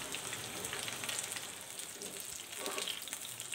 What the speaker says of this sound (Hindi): अब फुल गरम ऑयल के अंदर हम लोग इसको फ्राई करेंगे सारों को